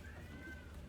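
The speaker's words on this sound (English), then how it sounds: "my cat wants to come in" A house cat meows to be let in, one faint, drawn-out meow over a quiet indoor background with no one talking.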